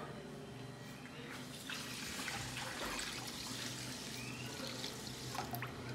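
Water is poured into a pan holding rice, a steady splashing and gurgling stream that grows slightly louder partway through, close and continuous, with no voices.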